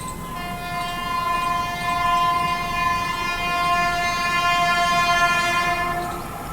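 The Bhubaneswar Tejas Rajdhani express train passes on the Indian railway line, with a loud sustained multi-tone horn blaring for several seconds over the rumble of the moving train.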